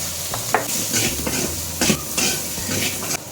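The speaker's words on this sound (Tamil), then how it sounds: "அதனால் நம்ம இப்போ இதை வதக்கிப்போம்." Vegetables and green chillies stirred and sautéed with chilli powder, coriander powder and sambar powder in a pan, with steady sizzling, scraping stirs and clinks of utensil against pan, close and continuous.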